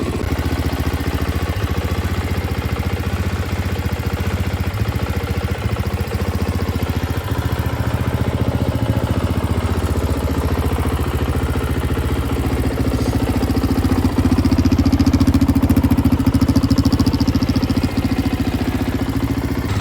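A rare Honda dirt bike with a leaking O-ring, smoking heavily and pouring oil from its exhaust, idles steadily up close with a dense, clattering engine note that barely changes, with no talk.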